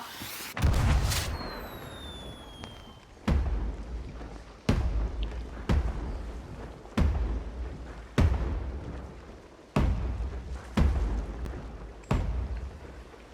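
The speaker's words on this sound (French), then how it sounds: "il y avait un feu d'artifice" A series of booming fireworks bursts in the pirate video game Sea of Thieves, about nine evenly spaced thuds, each followed by a fading crackle and rumble, with a whistling launch at the start.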